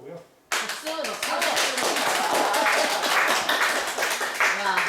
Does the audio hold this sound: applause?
yes